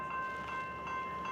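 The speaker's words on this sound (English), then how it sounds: "Second train coming." A Denver RTD light rail train arrives at a station, heard as a steady mechanical hum with a faint tonal whine, fairly quiet and continuous.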